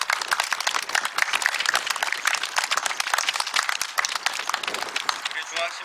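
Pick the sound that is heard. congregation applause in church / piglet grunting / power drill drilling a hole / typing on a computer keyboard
congregation applause in church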